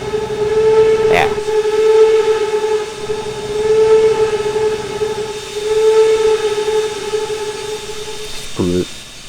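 A V&T Baldwin 4-4-0 steam locomotive in the game Trainz 2019 sounds its whistle in three long steady blasts, loud and close over a running train rumble, with a short clank near the end.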